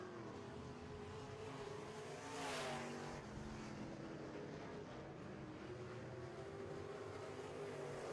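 Modified race cars roaring around a dirt track in a heat race, a continuous loud engine drone with one car swelling past nearby, no voices over it.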